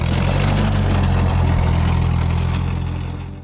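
A Ford 8N tractor engine idles steadily and loudly up close, its low, even throb running continuously before easing slightly toward the end.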